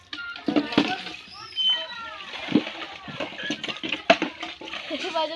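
Water splashes during Holi play, in short, scattered splatters close by, mixed in with children and others chattering and calling out throughout.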